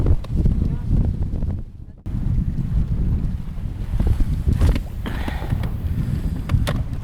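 Strong wind buffets the microphone in loud, rumbling gusts while fishing for pike, with occasional faint clicks and rustling.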